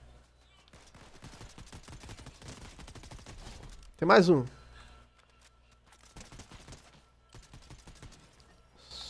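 Gunfire in the video game Fortnite: a short, loud burst of rapid shots cutting in over ongoing game sounds, with someone talking before and after it.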